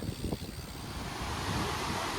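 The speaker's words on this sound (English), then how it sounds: "We didn't even know Edessa had quite an impressive waterfall just gushing over the edge here" A waterfall near Edessa gushes over a rocky edge, a steady, dense roar of rushing water heard close and continuous without a break.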